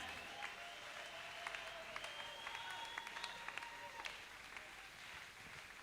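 Church congregation at a Sunday Christmas service applauds in a continuous, faint patter of many hands, with scattered sharper claps and voices mixed in.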